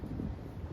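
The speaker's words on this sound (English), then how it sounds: "it's windy as hell and it's taking forever" Wind blows across an outdoor garden in winter, a brief low buffeting rush against the microphone, steady and fairly faint, with no speech.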